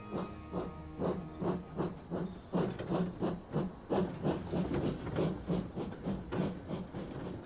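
A steam train puffs away from a shunting yard, giving a steady run of soft rhythmic chuffs and hissing bursts at moderate volume with no talk over them.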